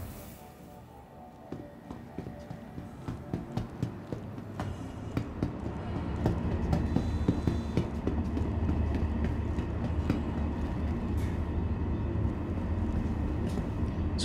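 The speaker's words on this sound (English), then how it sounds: "So we're just gonna wait for this train." A train passes in the Star Citizen video game, a low rumble building over several seconds into steady clattering with rhythmic metallic clicks, loud and close, with no talk.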